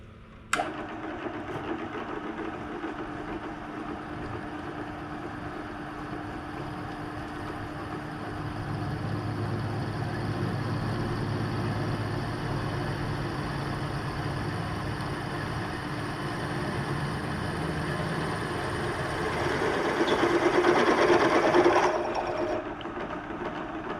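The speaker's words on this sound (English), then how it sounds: "it drills respectably, and the edge looks like it's making a reasonable hole" An axial relief ground drill bit boring a hole, a steady continuous grinding whir with a low motor hum that holds level throughout and grows slightly louder near the end before easing off.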